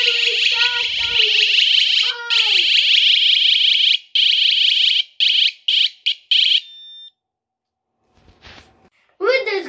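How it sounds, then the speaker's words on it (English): A loud electronic Godrej home security alarm hooter blares a shrill wailing tone, first continuously, then in short repeated bursts before cutting off. "Then the hooter will start"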